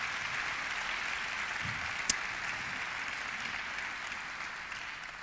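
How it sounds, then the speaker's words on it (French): Sustained audience applause fills a lecture auditorium at an author's evening talk. It is a steady, even wash of many hands, fairly soft and distant, with one sharper clap standing out midway. "je voudrais, s'il vous plaît, qu'on les applaudisse"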